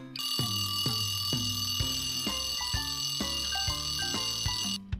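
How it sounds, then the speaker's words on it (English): A loud alarm clock rings in a continuous high, steady tone with rapid repeated strikes, a chiming melody running beneath it for about five seconds before cutting off abruptly. "Your alarm clock is ringing loud."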